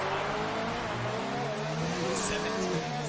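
F1 2019 race cars at the Singapore Grand Prix keep up a steady high engine whine with small pitch shifts, loud and constant, while a voice talks over it.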